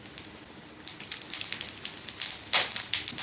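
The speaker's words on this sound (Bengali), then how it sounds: "তেলের ভেতরে দিয়ে দেবো আমি এলাচ আর দারচিনি, আর দিচ্ছি একটা তেজপাতা, আর দিচ্ছি সামান্য একটু জিরা।" Cardamom, cinnamon, a bay leaf and a little cumin crackle and sizzle in hot oil for a paneer and pointed gourd dish, a steady close spitting hiss with a sharper burst of pops midway, no talking.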